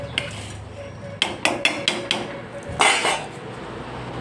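Morning tea dishes being washed in a home kitchen: a cluster of sharp metallic clinks and clatters from pots and utensils knocking together, close and loud, between quieter stretches of running background noise.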